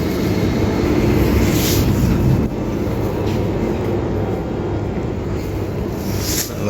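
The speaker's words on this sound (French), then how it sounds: "Oh, il y a un avion là-bas." An airplane passing overhead outdoors, a steady broad rumble that holds throughout at a fairly loud level, with no voices over it.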